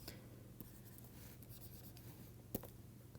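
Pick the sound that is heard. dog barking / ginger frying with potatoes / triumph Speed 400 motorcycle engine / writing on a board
writing on a board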